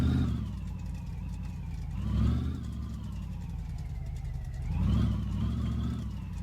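A B200 car engine hums steadily while driving, close and moderately loud, with two smooth swells as the revs rise and fall, heard alone without talk.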